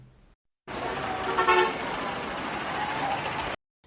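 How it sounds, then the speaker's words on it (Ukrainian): A car horn blares in one long, sustained honk for about three seconds, loud and close, starting and stopping abruptly. "Це звук машини."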